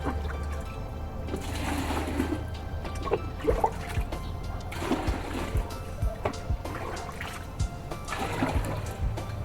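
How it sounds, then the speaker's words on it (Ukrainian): Water splashes and trickles onto soil around freshly planted hibiscus, carnations and kalanchoe, pouring in a few close bursts with wet dribbling between them. "Зараз водички наберемо, прольємо."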